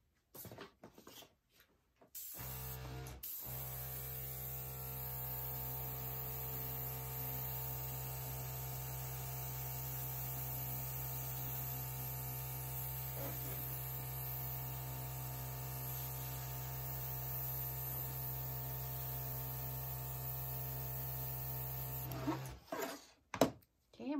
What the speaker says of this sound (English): I'm going to use my little air compressor again to see if I can blow this out.